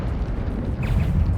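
A Stupefy spell blast from the Hogwarts Legacy video game, a dense booming burst that rumbles low and steady for over a second with a brief brighter crackle partway through, loud and close.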